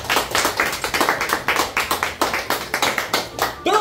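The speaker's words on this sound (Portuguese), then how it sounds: "eu queria pedir nesse momento mais uma salva de palmas pra ela" Rhythmic applause from a studio audience during a Brazilian TV show surprise segment, with steady, fairly close claps over roughly four seconds and a brief voice at the end.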